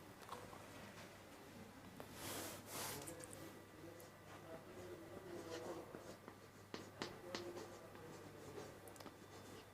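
A pen scratches across paper during a maths lesson, faint and close, in irregular strokes and scribbles over a low steady hum, with quiet talk nearby.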